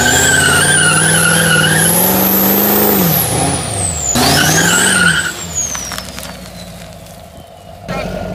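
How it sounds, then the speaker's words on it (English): A boosted truck does a burnout on mouse-trap glue, its engine roaring loud and rising in pitch with shrieking, spinning tires, revving hard, dropping, then climbing again before easing off near the end. "we're gonna keep doing burnouts because this stuff is like really loosening up as it gets hot,"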